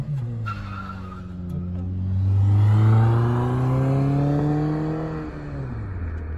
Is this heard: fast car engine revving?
yes